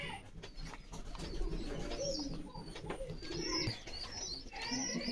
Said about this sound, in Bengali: এই যে আর এক জোড়া কোকা কবুতর